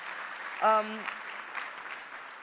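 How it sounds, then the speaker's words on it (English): An audience applauds in a hall after a speaker's introduction at an Eisenhower Fellows event, soft steady clapping with a brief voice rising over it partway through. "Please give her a round of applause."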